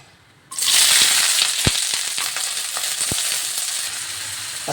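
Onions and green chillies dropped into hot oil for gongura chicken curry: after a brief quiet moment, a loud burst of sizzling settles into steady crackling frying with a couple of sharp pops, no voices.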